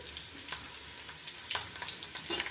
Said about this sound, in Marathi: आलं लसूण पेस्ट आपल्याला लाल होतेपर्यंत परतवायची